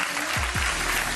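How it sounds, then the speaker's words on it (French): An audience at a French women's football awards ceremony applauds, dense continuous clapping filling the short moment, with a brief low sweep underneath. "Je vous demande d'applaudir Ghislaine Royer-Souef."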